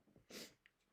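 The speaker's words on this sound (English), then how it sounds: "please excuse the cough" A single short cough bursts out in the middle of a quiet live Japanese study session. It is faint and sits well below the level of the nearby talk.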